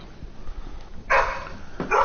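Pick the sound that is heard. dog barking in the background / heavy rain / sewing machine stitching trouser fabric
dog barking in the background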